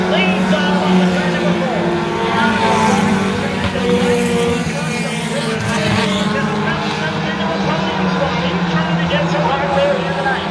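Pure stock race cars roar around the oval at Lee USA Speedway in a continuous, loud engine drone late in the feature race, with an announcer talking over the pack.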